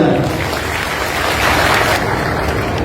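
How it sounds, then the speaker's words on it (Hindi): Applause from a large gathering at a religious congregation, a broad continuous wash of clapping, loud and steady with no clear individual claps. "एक बार इन दोनों के लिए भव्य तालियां हो जाए"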